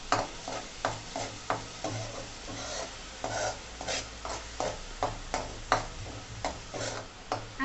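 Onions frying in oil in a pan for a Gujarati bottle gourd curry, stirred with steady rhythmic scraping strokes over a soft, continuous sizzle.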